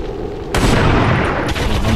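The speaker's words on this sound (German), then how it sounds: "jetzt gibt's hier einen Sniper-Schuss in your face." A sniper rifle in a video game cracks out a single sharp, booming shot, followed by a second loud burst, both heavy and close.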